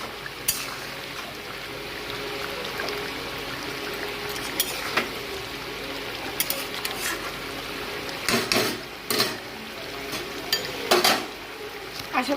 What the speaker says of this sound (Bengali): এবার আমি মাছের টুকরোগুলো দিয়ে দেবো, আরও কিছুক্ষণ রান্না হতে দেবো।